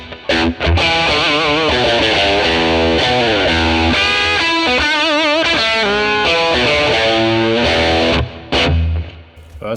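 A Telecaster electric guitar plays through a 1957 Tweed Bassman ToneX amp model, loud overdriven chords and bending lead lines ringing with sustain, alone without talk.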